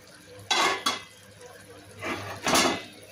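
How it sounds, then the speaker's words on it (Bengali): A spatula scrapes and clatters against a pan while Thai sarputi fish roast is stirred, giving two pairs of short, close metallic scraping strokes over quiet background. "আমি একটু এরকম করে একটু ভালোভাবে নেড়ে ছেড়ে দেবো।"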